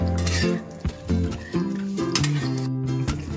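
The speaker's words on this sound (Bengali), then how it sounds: "আমি একটু ভালো করে নাড়িয়ে নামিয়ে নেব" Stuffed Kashmiri aloo dum being stirred in a pan, a spoon scraping and clinking against the metal in uneven strokes over a soft sizzle, close and fairly loud, partly masked by steady background music.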